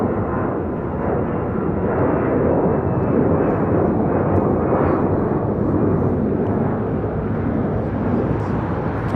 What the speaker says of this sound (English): This is Avianca 523 taking off to San Salvador on an A320.